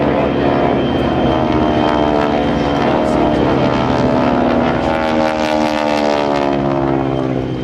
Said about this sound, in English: the GEICO Skytypers are holding their formation absolutely beautifully